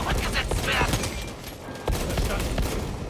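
Rapid co-op gunfire from Space Marines blasting down into Tyranid swarms in Warhammer 40k Space Marine 2, a dense, continuous barrage of overlapping shots with a brief lull midway, heard close and loud under talking players.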